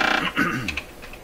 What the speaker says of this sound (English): I had my suspicions about exactly what it is that's making that very loud ticking sound